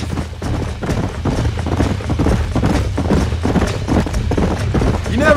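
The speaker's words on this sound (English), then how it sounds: "Let's see if we can track down that other herd of horses." A herd of horses galloping in Red Dead Redemption on Xbox 360, loud continuous rhythmic hoofbeats close by, with a brief whinny near the end and a voice talking over them.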